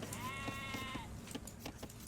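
Sheep in Age of Empires II give a short, faint bleat, followed by quiet game ambience with soft clicks and small effects and no speech.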